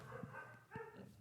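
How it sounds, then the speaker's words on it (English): A few faint dog barks in quick succession, two short sharp yips standing out against a low murmur, with no talk over them. "Oh, my dogs"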